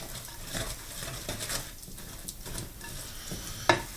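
A spoon mixing fruit loaf cake batter in a bowl, soft repeated scraping and stirring strokes heard close, ending with a sharp clink of utensil against the bowl.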